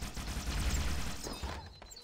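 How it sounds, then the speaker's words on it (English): An explosion in Halo: Combat Evolved, a loud rumbling blast with crackling debris that swells and then fades over about two seconds. "Oh, it's too close to that explosion."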